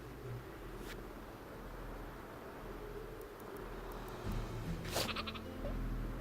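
A super sheep in the game Worms WMD bleats faintly a few times over a steady background hum, with a sharper bleat near the end.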